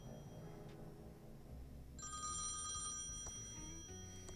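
An out-of-order payphone rings in the Thimbleweed Park video game, a steady electronic telephone ring with a bright repeating tone that starts partway through over a low musical game background.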